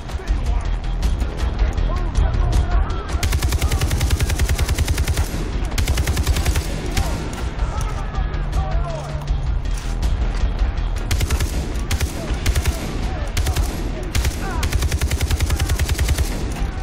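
Sustained gunfire in the video game Far Cry 3, dense machine-gun bursts and single shots rattling almost continuously, loud and close with game effects underneath.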